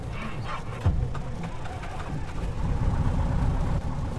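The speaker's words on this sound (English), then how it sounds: "All right, let's start the engine and go flying." A light aircraft's propeller engine starts and settles into a steady, low, droning idle on the ground in a flight simulator game, with a brief thump as it catches, then a continuous rumble with no other sounds.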